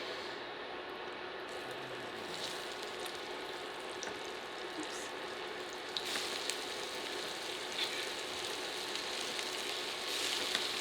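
Parmesan pork rind chicken deep frying in a very hot pan, a steady broadband sizzle and crackle running throughout, with brief louder pops and spatters later on; no talking.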